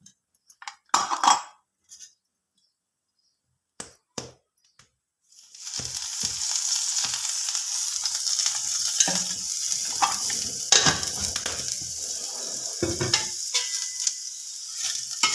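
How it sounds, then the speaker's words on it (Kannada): Bitter gourd sizzles steadily in hot oil in a village home kitchen and is stirred, with scraping and occasional clinks against the pan, after a few sparse knocks at the start; the frying noise is close and continuous, and nobody speaks. "ಹಿಂಗೆ ಅತ್ಯಾರಿ ಬೇರೆ ಹುರಿದು ಅಂದ್ರೆ ಒಂದು ಸ್ವಲ್ಪ ಎಣ್ಣೆ ಹಾಕಿದಂದ್ರೆ ಜಲ್ದಿ ಹುರಿತಾ ನೋಡ್ರಿ"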